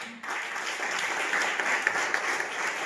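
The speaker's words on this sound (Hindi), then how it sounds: "मगर आपकी तालियों में थोड़ा जोर होना चाहिए" A crowd applauds continuously at a college welcome party, a dense wash of clapping from many hands at a moderate distance, with a few sharper claps standing out.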